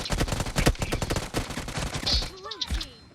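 Gunfire in the Free Fire mobile game: rapid bursts of close shots in a dense rattling volley, followed by a short chiming game effect as it dies away.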